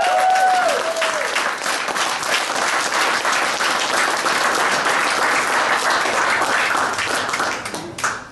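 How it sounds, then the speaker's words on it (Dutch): Loud, sustained applause from a film festival awards audience honours two young filmmakers, dense and even for several seconds before tapering off abruptly at the end. "Geef ze nog een applaus."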